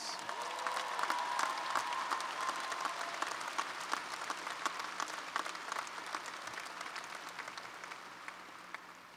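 Commencement audience at the University of Massachusetts Boston applauding the class of 2016, a dense, steady wash of clapping from a large crowd that carries on evenly and tapers slightly near the end.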